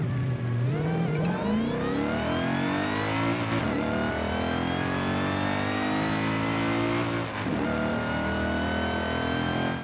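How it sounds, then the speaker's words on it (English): Mercedes-Benz E55 AMG Wagon engine in Forza Horizon 5 revving steadily, rising from idle into a sustained high rev with brief dips, loud and alone without any talk. "now let's go ahead and take a listen"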